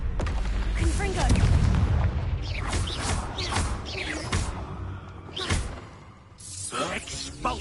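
The Confringo blasting spell goes off in the Hogwarts Legacy video game with booming explosions and whooshes, loud and close. Spell incantations and speech run over the blasts.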